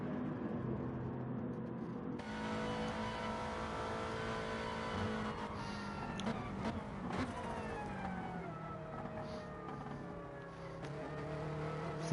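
Onboard sound of a Subaru WRX racing at Suzuka Circuit in a video game, a loud, steady engine roar that climbs through the revs, drops at gear changes and winds up again.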